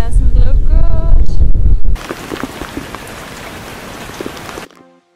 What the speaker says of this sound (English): I've seen more rain than on the entire hike so far.